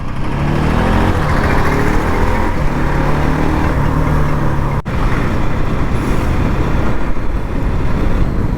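A Bajaj Pulsar NS200 motorcycle engine runs steadily close by with a low, even drone. It dips briefly midway, then carries on at the same level with no talk over it.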